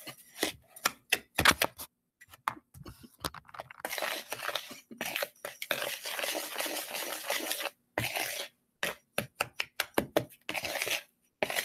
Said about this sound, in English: I'm gonna stir all this up here.